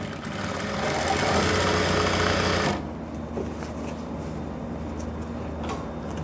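A sewing machine stitches pants with a front waistband and elastic back in a steady loud whirring run that stops abruptly after about three seconds, leaving a quiet room hum.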